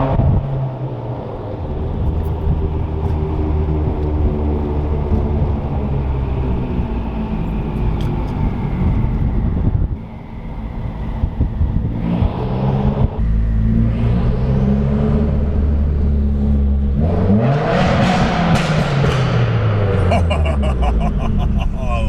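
Tuned Subaru WRX engine with a dyno-tuned setup, revving up and down in long sweeping pulls, with crackling exhaust pops on lift-off toward the end; loud and close, under steady cabin rumble.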